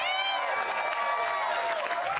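A comedy club audience applauds and cheers as a comedian, an SNL Weekend Update writer, takes the stage: loud, continuous clapping mixed with whooping voices from a nearby crowd.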